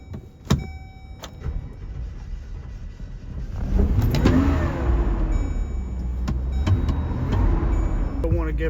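An older truck named Berta cranks over and fires, then its engine runs and revs steadily. The sound is close, from inside the cab on a cold, windy day, with a person talking over it at times.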